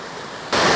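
Creek water rushes over rocks on the trail to Catawba Falls near Old Fort, North Carolina, a steady broadband roar that swells abruptly louder partway through as the flow comes close.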